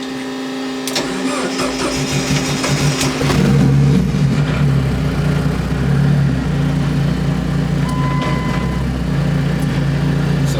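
A 2.2-liter turbocharged SRT-4 engine swapped into a Caravan minivan runs loud and close, its steady idle climbing into a fuller, rougher rev partway through and holding there.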